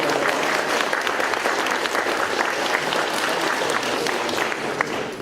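An audience at a presentation of the Duyunov motor-wheel applauds, loud, dense, sustained clapping from a crowd in a room that holds steadily throughout.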